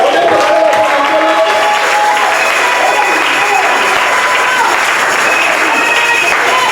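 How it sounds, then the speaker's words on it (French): A church congregation applauding during a French-language sermon: loud, sustained clapping from many hands fills the room steadily, with a speaking voice heard over the crowd. "Applaudissez pour le Seigneur."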